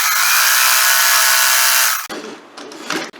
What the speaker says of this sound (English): And just going to sew right there.